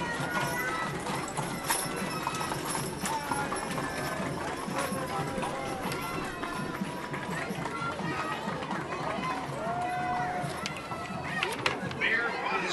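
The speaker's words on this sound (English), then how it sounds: "I love to see horses in the parade." Wells Fargo stagecoach horses clop and trot past in a town parade, steady hoof beats close by over crowd murmur, with a brief whinny and people talking throughout.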